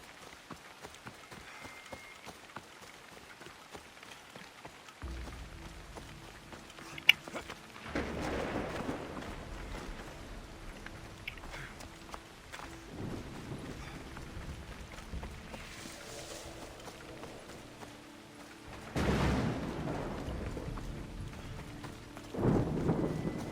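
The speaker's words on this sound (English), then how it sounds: "I don't think I've really noticed a storm on land before" A rainstorm with thunder on land in Assassin's Creed Odyssey: steady rain hiss throughout, with deep rumbling thunder swells around the middle and near the end, and no talking.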